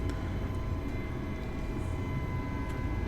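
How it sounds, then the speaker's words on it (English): A Miltech MH-60T helicopter in Microsoft Flight Simulator 2020 flies over San Diego with a steady, dense engine and rotor drone, constant and fairly loud with no breaks. "And the helicopter is a lot more maneuverable"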